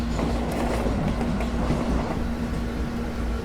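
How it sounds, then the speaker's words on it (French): Freight train wagon with a damaged axle in Train Simulator, behind a BB26000 locomotive, giving a steady loud rumble with a rattling clatter and a droning low hum running continuously, no voices. "on entend un petit peu en arrière-plan qu'il y a un wagon qui doit avoir un essieu endommagé là"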